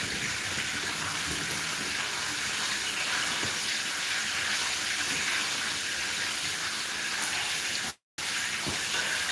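Tap water runs steadily in a home kitchen while someone is cooking, a loud continuous broadband hiss that fills the whole stretch, briefly cut off by a short gap near the end before it resumes.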